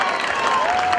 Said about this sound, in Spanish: un aplauso grande